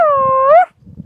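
A person imitates a dog with a single short, drawn-out howling whine, clear and close, followed by a brief pause and faint rustling.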